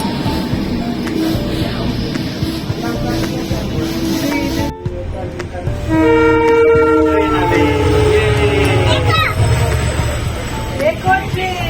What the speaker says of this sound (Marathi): देखो ट्रेन